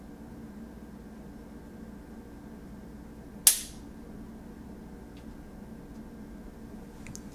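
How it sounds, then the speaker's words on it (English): A pistol dry-fired during target training gives a single sharp metallic trigger click midway, near and alone over a quiet room hiss. "take aim at your target like you would normally do using your standard stance, and dry fire your pistol"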